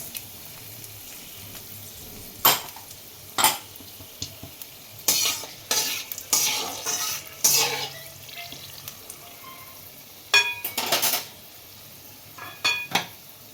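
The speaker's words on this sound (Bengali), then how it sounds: "লঙ্কাটা একটু কালো করে ভাজবো" Whole dried red chilies and a bay leaf fry in oil with cinnamon and cloves for a spicy mutton dish: a faint low sizzle broken by sharp, scattered clanks of a spatula against the pan.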